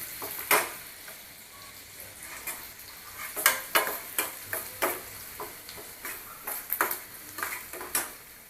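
Chopped onion sautés in a pan with a bay leaf, a soft constant sizzle broken by sharp scraping and clinking strokes of a spoon stirring against the pan.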